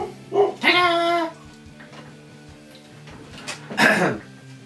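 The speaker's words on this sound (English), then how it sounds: "I'm gonna see what the dog's barking at." A dog lets out a few sharp barks and yips indoors, with two louder bursts at the start and near the end and a steady mechanical hum underneath.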